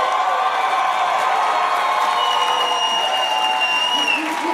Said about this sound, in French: un tonnerre d'applaudissements pour Alex Harrison!